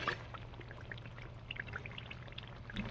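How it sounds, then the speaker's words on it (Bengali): Water poured into a chicken and pointed gourd curry: a faint, steady trickling pour with small splashes over a low background hum, lasting a few seconds. "আমি এবারে পরিমাণ মতন জল দিয়ে দেবো।"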